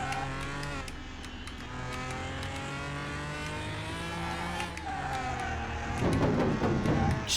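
A car racing on a track in a driving game, its engine droning near at a high steady pitch that dips and rises with revs, ending in a rougher burst of noise.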